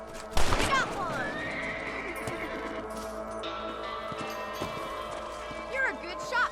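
Horse in the video game Red Dead Redemption, with one loud, close, drawn-out neigh followed by a softer snort and light hoof clopping over a steady game background.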